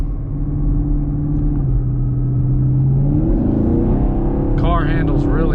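A 2021 Chevrolet Camaro SS driving on a long open road, its exhaust droning loudly and steadily, then rising in pitch as the engine revs up near the end.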